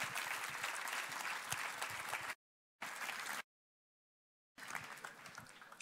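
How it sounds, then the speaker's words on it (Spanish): A youth camp congregation claps for the Lord in a church setting, dense continuous applause heard in three bursts separated by two stretches of complete silence. "Dele fuerte el aplauso al Señor."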